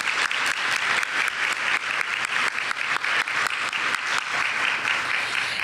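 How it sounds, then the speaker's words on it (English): Crowd at an executive women's panel during a golf championship gives a round of applause, many hands clapping with sharp distinct claps standing out, steady and moderately loud throughout with no talk. "So let's give them a round of applause."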